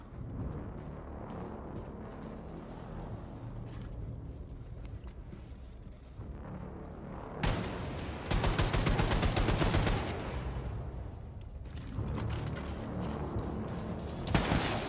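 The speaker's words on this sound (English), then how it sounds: "That Gatling gun type weapon's not really effective." A Gatling gun in the shooter Wolfenstein II: The New Colossus fires in sustained rapid bursts over heavy combat noise. The firing grows louder and denser midway, with explosions and impacts mixed in throughout.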